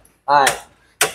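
A faulty starter motor on a Proton Persona that died suddenly while driving cranks in two short, loud, whirring-grinding bursts separated by a brief silence.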